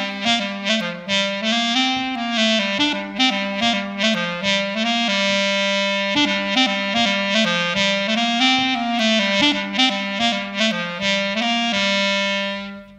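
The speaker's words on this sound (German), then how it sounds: "Diesen Füllton nennt man auch Reperkussion." A solo clarinet plays a bagpipe-style melody, with quick filler grace notes repeatedly breaking up the sustained tones in a lively, ornamented line that ends on a held note.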